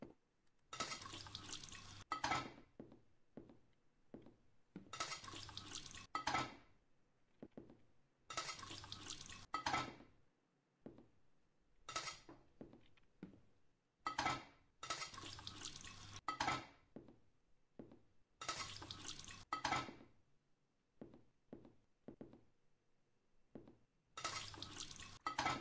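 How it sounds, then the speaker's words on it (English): Dishes being washed under a running kitchen faucet: bursts of flowing water alternate with quiet gaps, with clinks of dishes and glass and no talking. "I'm gonna turn around and wash these dishes."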